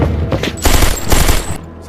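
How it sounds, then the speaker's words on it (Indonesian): Enemy soldiers fire in a film battle scene, a loud, close fusillade of rapid machine-gun bursts in two main waves lasting under two seconds. "Tentara musuh datang dan akan menembak akan tetapi"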